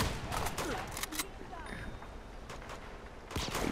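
Gunfire in an Uncharted action game: rapid bursts and scattered single shots crack repeatedly at close range, with a fresh volley near the end, mixed with game noise and a voice talking.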